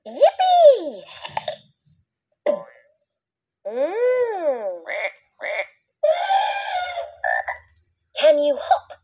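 A cartoonish toy frog croak sound, repeated in several bouncy, pitch-sliding bursts with short silences between them, loud and close.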